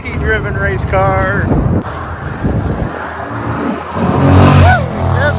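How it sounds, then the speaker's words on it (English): A supercharged race car driven by a woman passes at a car cruise, engine noise swelling loud and close amid wind buffeting, while spectators talk and cheer over it. "Lady driven race car."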